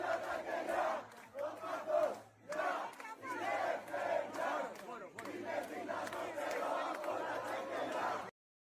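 A large crowd cheering and shouting in rhythmic waves of chanting at a protest event, fairly distant and mixed with chatter, with brief pauses between surges before cutting off.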